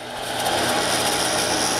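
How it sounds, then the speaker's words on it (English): A drill press running fast bores straight through a piece of wood down to its depth stop, giving a steady, continuous whirring grind at close range with no talk. "and then drill right through until my depth stop is hit"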